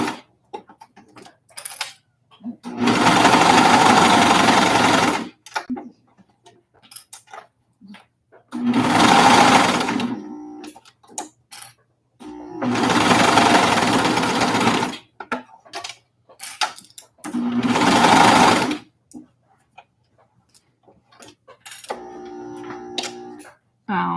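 A sewing machine stitching fabric runs in four loud, steady bursts of several seconds each, separated by pauses filled with short clicks and handling noise.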